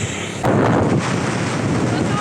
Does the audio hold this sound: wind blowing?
yes